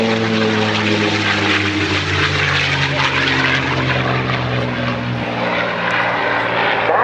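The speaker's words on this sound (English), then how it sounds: "North American Aviation, the maker of this aircraft that's flying now" North American Aviation World War II propeller aircraft flying at the Blue Ash airshow, a loud continuous droning engine roar with steady harmonic tones that swell slightly as it passes, heard alone without talking.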